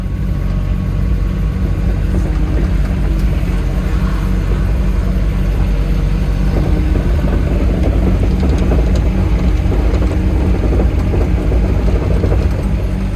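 A farm digger, freshly serviced with new fuel filters and a couple of added washers, tracks around in a steady, loud, close diesel drone with constant low rumble and slight mechanical clatter, no pauses.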